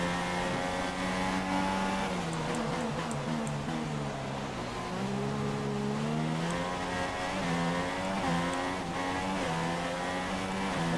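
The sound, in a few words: race car engine in a racing video game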